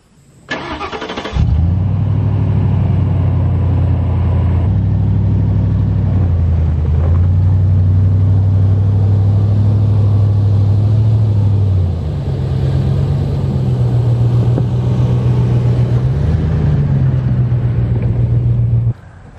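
A Ford truck with a failing brake line starts up and drives a short way, its mid-pitched engine rumbling loud and close and shifting in tone as it rolls, with no talking.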